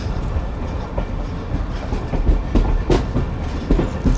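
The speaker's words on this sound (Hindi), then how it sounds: "चले जी, अयूब ब्रिज के ऊपर जा रही है ट्रेन।" Sukkur Express train crossing the Ayub Bridge, heard from aboard with a steady low rumble and repeated rhythmic clickety-clack of wheels over rail joints throughout.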